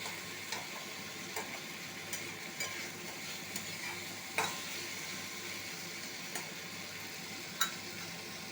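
Okra already fried is stirred with spice masala in a pan, giving a steady low sizzle with regular light scraping and tapping strokes of the spoon every second or so, close and alone with no voices.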